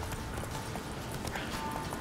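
A horse galloping across open country in the video game The Witcher 3, its hooves pounding out a quick steady clip-clop rhythm over a continuous background wash, close and fairly quiet, with no voices.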